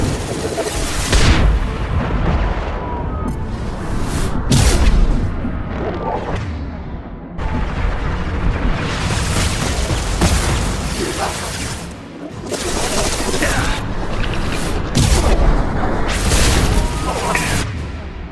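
Heavy weapons fire and booming explosions during a battle aboard the Collector Ship in Mass Effect 2, loud and nearly continuous, with bursts and blasts repeating throughout and shouted speech mixed in.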